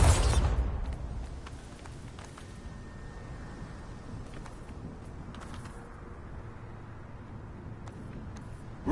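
A Bombarda explosion spell from the Hogwarts Legacy video game bursts loudly at the start, then fades into a low, rumbling tail with scattered faint creaks and clatter.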